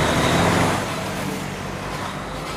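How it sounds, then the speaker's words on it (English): Road traffic rumbles in a steady, loud wash of passing cars and heavier vehicles, a continuous broadband roar that eases slightly after the first moment. "Traffic noise is loud, annoying, a nuisance, really."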